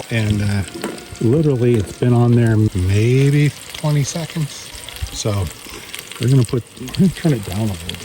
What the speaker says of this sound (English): we got a little bit of onions, potatoes getting ready to put on the stove